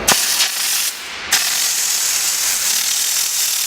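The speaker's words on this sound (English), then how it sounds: "When the steam comes out, you can not hold tight the steam gun." A steam gun on a Lianke diesel mobile steam washing machine blasts a loud, harsh hiss of steam, cutting out briefly and then resuming as a continuous close jet; no voices.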